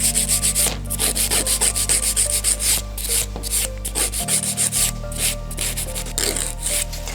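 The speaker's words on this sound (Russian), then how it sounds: "Материал опиливается очень легко, так как является гелевым материалом." A gel nail tip being filed close up, rapid rhythmic rasping strokes in quick bursts over a low steady electrical hum, with no one speaking.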